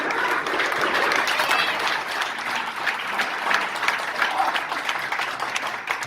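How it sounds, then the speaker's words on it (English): A crowd at a South African Democratic Alliance political event applauding steadily and loudly for several seconds, a dense wash of clapping with no pauses. "Let's give applause."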